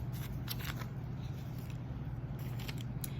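Scissors snip paper for bookbinding in several quick, crisp cuts close by, over a steady low background hum.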